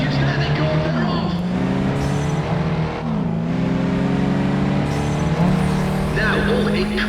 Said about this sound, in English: Just listen to those engines.